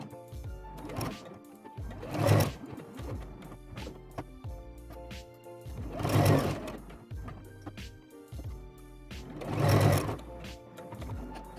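Sewing machine stitching a fabric seam at 0.5 cm while making a cloth berlingot pouch, heard as three or four short whirring bursts of stitching separated by quieter pauses, close and fairly soft, with no talking.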